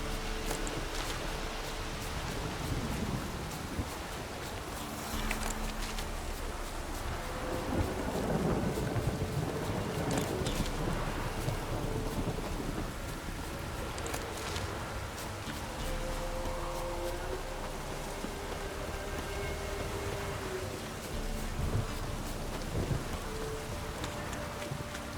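Steady rain and rolling thunder in the game The Witcher 3, a continuous dense downpour with deep rumbles swelling and fading throughout, no voices over it.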